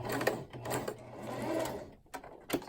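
A sewing machine runs in short bursts, stitching a bandana handbag; a steady mechanical whir with rhythmic needle thumps, close and fairly loud, pausing briefly near the end.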